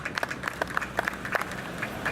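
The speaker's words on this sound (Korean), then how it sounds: "격려의 박수 다시 한번 부탁드리겠습니다." Encouraging applause from a crowd at a Korean political campaign speech, sparse and uneven claps with a few sharp individual hits standing out over a thin, moderately quiet crowd wash.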